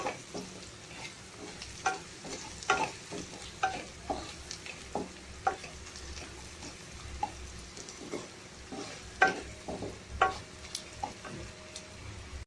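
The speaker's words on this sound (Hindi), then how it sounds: "इसको हम हल्का सॉफ्ट होने तक पकाएंगे। इस ऑनियन को हल्का लाइट ब्राउन करना है।" Soft, steady sizzling of onions frying in a pan until soft and light brown, with occasional scraping and stirring clicks throughout.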